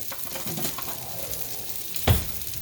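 Fried meatloaf sizzles in a pan with a steady crackling hiss, close by, and a short clunk of utensil or pan near the end.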